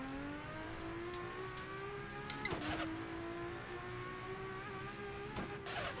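A Nissan Silvia S14 with a swapped RB26DETT engine drones steadily in a racing video game. The engine pitch climbs and dips, with a brief shift-like break midway and no talking.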